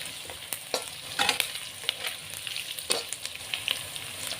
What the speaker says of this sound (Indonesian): kita goreng terus ya sampai kecoklatan atau lada, tumbarnya semuanya